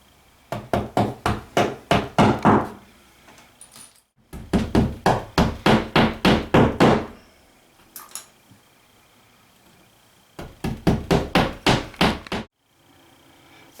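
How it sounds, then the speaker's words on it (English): A hammer lightly taps wall anchors into a bathroom wall in quick, regular bursts of about a dozen blows each, three rounds separated by short pauses, sharp and close. "lightly tap them into the wall with a hammer."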